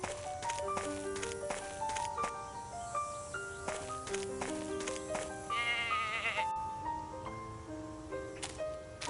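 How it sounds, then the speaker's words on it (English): Goats bleat repeatedly in a video game set by a thorny thicket and abandoned houses, several overlapping wavering cries close and moderately loud, mixed with tinkling game music and no speech. "That goat is a menace."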